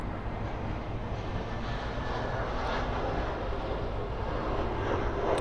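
A Boeing 737-800 airliner taxis toward the runway, its jet engines producing a steady, broad rumble and whine, moderately distant and continuous with no talk.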